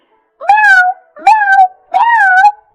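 Three drawn-out meows voiced by a woman imitating a cat, each rising then falling in pitch, close and fairly loud with short pauses between.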